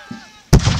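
A musket and cannon volley at a Revolutionary War reenactment battle, one sudden loud blast that cuts in after a brief faint murmur and rolls on with booming rumble.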